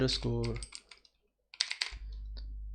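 Domain name typed on a computer keyboard during website setup: two short bursts of close key clicks separated by a silent pause, with a brief voice at the start and a low steady hum.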